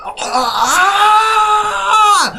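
A voice imitates a drawn-out wail of pain, one sustained rising and falling moan lasting a couple of seconds, loud and close, with no other sound.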